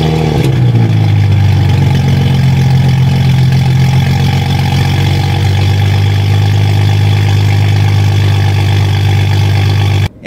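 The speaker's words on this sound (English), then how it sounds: "activate the GTS startup roar so that your car always starts up really loudly on every startup" A BMW F30 335i engine fires up with a loud startup roar, then settles into a steady, deep idle heard up close, cutting off abruptly at the very end.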